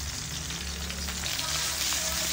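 Shrimp paste (bagoong alamang) sautéing in a pan, a loud steady sizzle with faint stirring scrapes, no talk.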